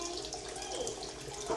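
Water and small rummynose tetras are dumped from a container into a 75-gallon aquarium, a short, soft continuous pour and splash, fairly quiet and close.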